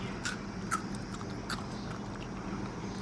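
Crunchy Nutella B-Ready wafer bar bitten and chewed, a few sharp crisp crunches spaced over steady low background noise, no talking.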